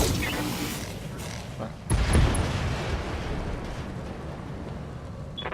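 A heavy boom bursts out partway through as an enemy vehicle is destroyed in the BattleTech mech combat game, with a loud low rumble that lingers over ongoing battle noise and faint voices.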